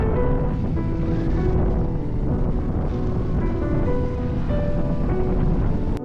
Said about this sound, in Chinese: 山上的风非常大